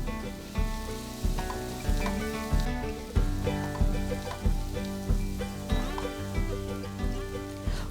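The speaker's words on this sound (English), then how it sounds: "Heat 2 tablespoons of olive oil in a large non-stick pan. Add the onion, garlic, celery and carrot and stir everything well." Onion, garlic, celery and carrot sizzle in hot olive oil in a large non-stick pan, with a steady close frying hiss and regular rhythmic scraping as the vegetables are stirred.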